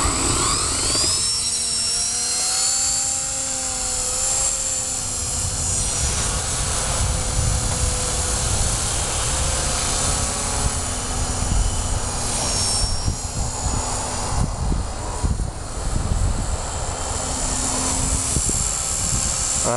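A Blade V120d02S RC helicopter with a rebuilt TA 215 motor and slipper clutch flies on a test flight, its high, steady motor whine rising and falling in pitch over a continuous rotor whoosh, fairly close throughout.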